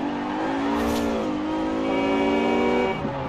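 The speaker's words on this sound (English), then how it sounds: "That was a warthog horn." A Warthog-style car horn in Forza Horizon 4 blares as a sustained, loud, tonal honk of about three seconds, heard alone.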